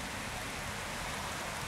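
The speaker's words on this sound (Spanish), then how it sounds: "hoy viernes 4 de octubre 24, se incrementa la lluvia" Heavy rain falling in a steady, dense hiss that stays even and fairly loud across the whole moment, with no voices heard.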